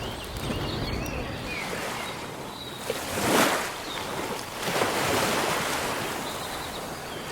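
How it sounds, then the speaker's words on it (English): Ocean waves in a Unity FMOD ambient scene wash in as a steady broadband surf, swelling into two louder crashing peaks before settling back to a constant roar, with no voices present. "We start to hear the waves slowly,"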